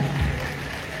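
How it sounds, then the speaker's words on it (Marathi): Audience at an annual dance crew show applauds, a dense wash of clapping from a crowd that fills the brief moment without any voices. "मला तुमच्या टाळ्यांचा जोरदार कडकडाट ऐकायचा मित्रांनो"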